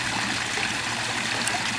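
A garden pond waterfall runs in a steady, close, continuous rush of splashing water, unbroken and alone.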